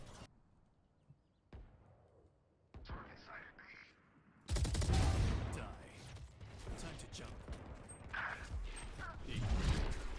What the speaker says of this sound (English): Placing swarm grenade. Swarm grenade out.